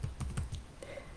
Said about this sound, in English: I'm going to type in my website here too.